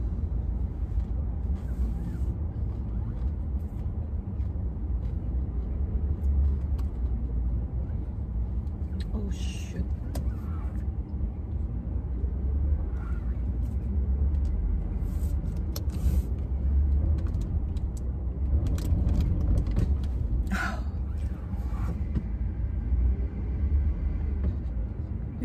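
Steady low rumble of a truck engine underway, filling the cab continuously, with a few faint clicks and brief sharper noises on top.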